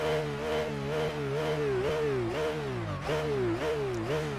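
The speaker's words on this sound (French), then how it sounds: "Vous allez me dire si le bruit du moteur c'est bon" A car engine in a racing video game runs steadily at a high pitch, rising and dipping in repeated revving swells, loud and continuous with no talk over it.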